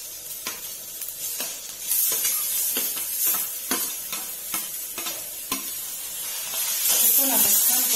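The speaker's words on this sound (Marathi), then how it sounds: "कांदा आता परतत आलेला आहे, आपण त्याच्यामध्ये हा टोमॅटो टाकून घेऊया।" Onion and tomato sautéing in a pan for homemade misal pav, a steady sizzle with repeated scraping stir strokes that grows louder toward the end.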